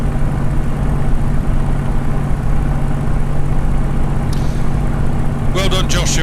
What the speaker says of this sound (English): Just listening to the engine there, it's come back on the boost a bit